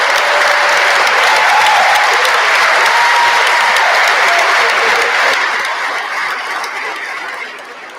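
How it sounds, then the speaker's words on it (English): Audience at a live crypto event, the Coin Bureau Live 2023 livestream, giving a big round of applause: thick, steady clapping from a sizable crowd that holds loud, then gradually thins and fades toward the end. "I'd love it if you could give them one more big round of applause"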